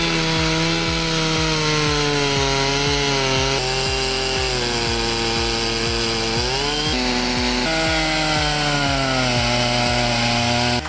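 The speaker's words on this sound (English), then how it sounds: "This Granberg setup transforms a standard chainsaw into a portable sawmill powerhouse" Chainsaw mounted on a Granberg portable sawmill cutting logs into planks, a loud continuous whining engine note that dips and rises under load, steady and close throughout.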